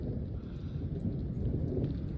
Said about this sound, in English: as you can hear that thunder